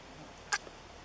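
A freshly caught chub or shad, landed while trout fishing, gives one short, sharp squeak in an otherwise quiet outdoor setting.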